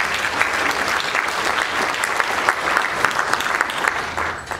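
Sustained, dense applause from a crowd at the Northern Lakes Economic Symposium awards lunch, steady and fairly loud for several seconds before easing slightly at the end.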